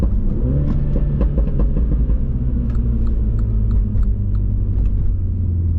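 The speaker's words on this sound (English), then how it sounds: "If you really don't like the road noise and you get annoyed by it" Deep, steady road rumble and tyre drone fill the cabin of a Mini John Cooper Works while driving, loud and constant with a low engine hum underneath.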